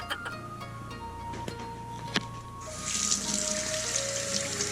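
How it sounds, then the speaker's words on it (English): Tap water runs steadily into a sink while hands are washed after making homemade vanilla ice cream, starting as a soft trickle with a few clinks and then swelling into a fuller, louder splashing stream. "I gotta go wash my hands now again"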